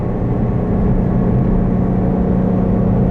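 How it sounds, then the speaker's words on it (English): A Ford Shelby GT350 V8 exhaust rumbling in sport mode with the valves open, a steady deep idle burble heard close and fairly loud, with no talking. "you hear that exhaust open up again"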